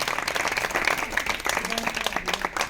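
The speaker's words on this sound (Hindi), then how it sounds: "एक बार जोरदार तालियां हो।" Audience applause at a financial literacy program with children and a local legislator present: dense, steady clapping from a crowd that fills the whole stretch at an even level.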